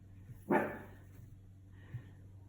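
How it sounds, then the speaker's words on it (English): A single sharp dog bark sounds in the background, moderately loud, followed by a fainter second yip a second later over a low steady hum indoors. "my dog is barking in the background"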